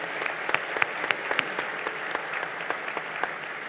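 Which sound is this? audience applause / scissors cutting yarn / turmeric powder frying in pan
audience applause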